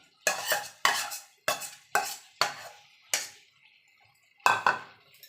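Raw jackfruit pieces tossed into a pan of spiced potatoes and stirred, giving a series of sharp, close scraping and clattering stirs in irregular rhythm, each quickly fading, with a longer gap before a final stir.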